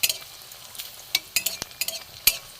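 Rice flour pitha frying in hot oil, with a faint sizzle punctuated by a few sharp spatters and pops, close and brief.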